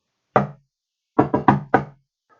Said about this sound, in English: Someone was knocking